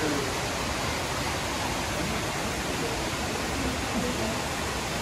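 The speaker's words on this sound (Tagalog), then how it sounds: "Ito na yung falls" A waterfall at Eriberta Spring in Zamboanga del Sur, with cold spring water overflowing into pools, makes a steady, dense, broadband roar. The rush is continuous and even throughout, with no talk over it.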